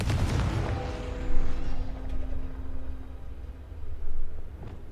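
Confringo fire blast spell in Hogwarts Legacy, a booming burst that opens loud and decays into a rumbling tail, with a second softer impact later, moderately loud and without speech.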